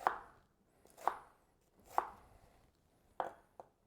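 A knife slicing a red onion on a cutting board: four distinct, crisp thuds spaced about a second apart plus a lighter fifth tap, close and quiet, in a still room.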